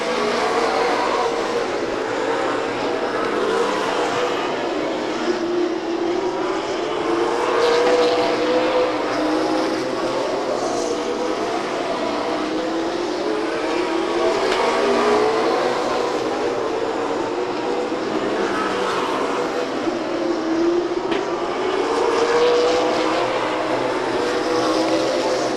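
Race cars roar past the grandstand at Stockton 99 Speedway in 1999, their engine tones rising and falling in repeated sweeping passes over a constant crowded din of loud, continuous track noise.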